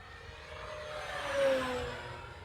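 An E-flite Fw-190 1.5m electric RC model plane flies past at full throttle, its motor and propeller giving a steady high whine that swells to a peak midway as it passes close by, then eases off slightly.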